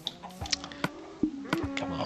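Donkey sounds from the Minecraft video game on Xbox One, heard as a few short, quiet animal calls among scattered clicks and game noises.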